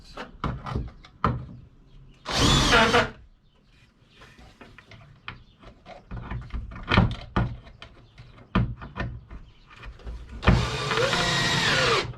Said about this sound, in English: Screw it down and see what happens.